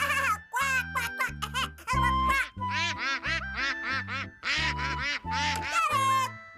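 A cartoon character's voice imitates a duck, giving a rapid run of nasal, bouncing quacks in a rhythmic series, loud and close with no other sound.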